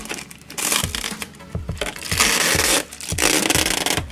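Protective plastic film is peeled off a cordless rechargeable UV/LED nail lamp, giving close, crackling, crinkly tearing bursts in quick repeated pulls over about four seconds.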